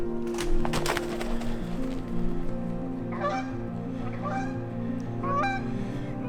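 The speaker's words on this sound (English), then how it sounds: "There's just geese all over here at the bottom." Several geese honk repeatedly at close to middle distance by a nesting area outdoors, their calls coming in bursts over a steady low background hum.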